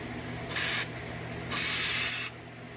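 Bed liner coating is sprayed onto a car body during paint and body work on a K-swapped Civic: two sharp bursts of spray-gun hiss, a short one then a longer one, loud and close over a low background hum.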